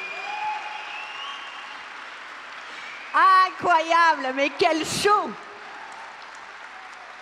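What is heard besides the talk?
audience applause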